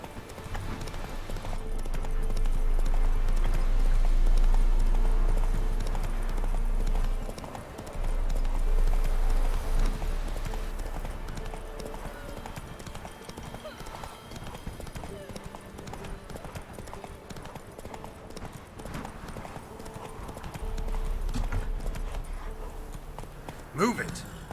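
A horse gallops in The Witcher 3: Wild Hunt with rapid, rhythmic hoofbeats that rise and fall in loudness, while a player talks over the game sound.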